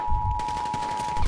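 Fast automatic gunfire in GTA 5 rattles steadily for about a second beneath a constant high steady tone, with a louder low thump at the start and end.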